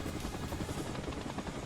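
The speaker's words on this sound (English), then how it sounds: "you'll see a helicopter above you" Helicopter in the Final Fantasy 7 Rebirth video game, a steady rotor drone with dense chopping texture overhead, continuous and fairly loud throughout with no speech.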